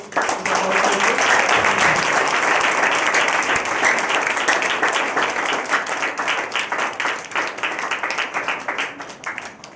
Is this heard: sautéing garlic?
no